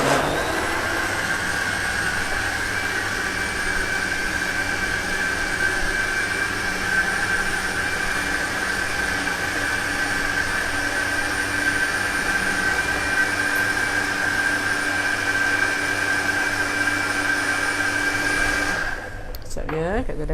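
A blender whirs continuously as it mixes a custard batter of eggs and vanilla, a loud steady motor drone that cuts off abruptly at the end.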